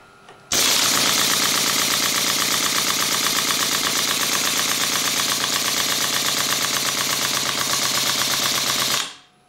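Rapid mechanical chattering starts abruptly, a fast steady hammering rhythm of pneumatic cylinders cycling at high speed, loud and close, then cuts off suddenly.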